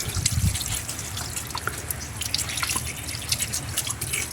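Water splashing and dripping while puppies are bathed outdoors, an irregular stream of close trickles and drips with muffled thumps underneath, steady throughout with no talking.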